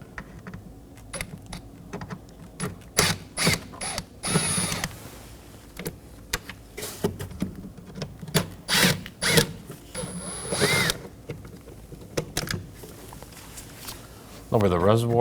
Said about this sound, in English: Remove these with a T25 bit.